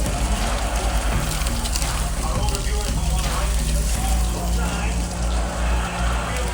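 Steady rumbling and gurgling of coolant bubbling inside a failing 1981 Jeep CJ7 258 engine, continuous and fairly loud throughout, with low mechanical hum beneath and faint voices.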